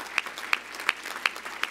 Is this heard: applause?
yes